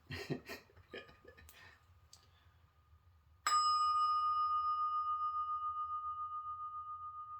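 A meditation bell is struck once after a few soft clicks and handling noises, then rings out as a clear, sustained tone that decays slowly with a gentle wavering pulse, loud and close.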